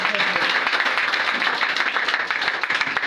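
A church congregation at a French-language prayer service applauds steadily, a dense continuous clatter of many hands that stays even and fairly loud throughout.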